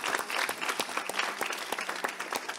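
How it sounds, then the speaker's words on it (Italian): An audience applauds schoolchildren at a festival award ceremony, a brief burst of steady, moderately distant clapping from a crowd with no voices over it. "Un applauso ancora"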